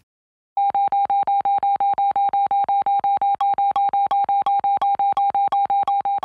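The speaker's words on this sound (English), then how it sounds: "the Morsians talk about the precise duration of the tones and the spaces in between." A Morse code transmitter tone sounds as a loud, close run of about thirty short, evenly spaced beeps at a single steady pitch, with no voices.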